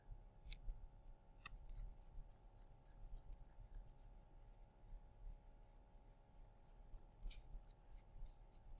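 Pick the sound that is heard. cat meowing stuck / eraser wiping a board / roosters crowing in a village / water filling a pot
eraser wiping a board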